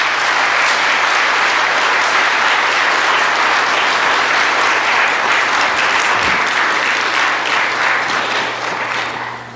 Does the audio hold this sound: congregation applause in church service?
yes